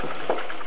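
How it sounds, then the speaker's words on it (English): An onion and tomato mix boils in a pot, giving a brief, steady, close hiss of bubbling. "This is boiling away"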